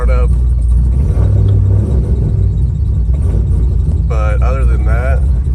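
A 500hp Pontiac WS6 rumbles loudly and continuously up close, a deep engine drone filling the whole stretch while people talk over it.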